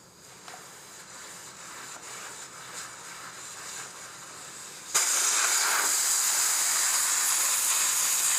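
Air from the front tire of a 2014 Honda VFR800 rushes out as the Schrader valve core is pulled, a soft hiss that abruptly turns into a loud, steady, close blast of escaping air.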